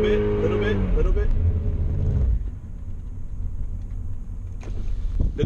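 A BMW engine revs hard near redline with tire noise while doing donuts, then the roar drops off to a low rumble before picking up again briefly.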